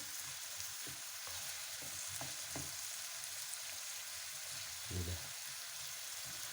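Chopped tomatoes with a mild, sweet red pepper sizzle softly in a pan while a spoon stirs them, with a few light scraping knocks, the quiet frying steady throughout and no one speaking.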